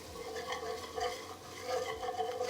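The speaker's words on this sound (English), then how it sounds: "Now I'm going to slowly stir in this 1/4 cup of flour so that it's not lumpy." A spoon stirs a quarter cup of flour into pot pie filling to form a paste, a steady close scraping with a soft simmer or sizzle underneath, continuous across the clip with no talking.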